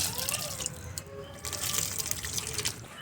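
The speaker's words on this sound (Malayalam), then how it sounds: "കുറച്ച് വെള്ളം കൂടി നമ്മളൊന്ന് ഒഴിച്ചു കൊടുക്കുന്നുണ്ട് കേട്ടോ" Water poured onto the soil of a freshly repotted balsam plant in a pot, a close continuous splashing trickle with faint rises and falls, no voices.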